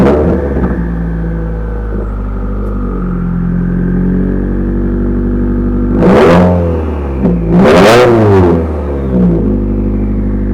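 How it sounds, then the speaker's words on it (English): A 2017 Subaru WRX Limited idles with a deep steady rumble, then gives two sharp, loud revs that rise and fall back to idle, heard close up with no talking. "It's only fair that I start her up for you, so let's do that right now."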